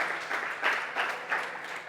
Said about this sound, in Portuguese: Dá um aplauso a ele aí.